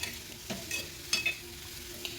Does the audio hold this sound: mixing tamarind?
yes